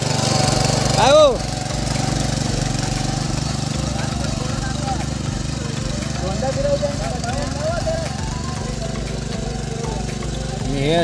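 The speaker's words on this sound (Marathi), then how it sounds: "ट्रॅक्टर नांगरत असताना मजा वाटतं." A tractor engine drones steadily and loudly while ploughing a field in rural Konkan, with a brief louder burst near the start and the rumble holding throughout.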